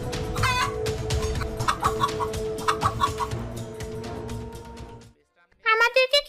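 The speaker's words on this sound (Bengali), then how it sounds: "খামার থেকে হঠাৎ এমন মুরগিতে ডাকাডাকি শোনা যাচ্ছে কেন?" Chickens on a farm cluck and squawk in an agitated chorus under a voice, then a short pause before a few more sharp, close calls.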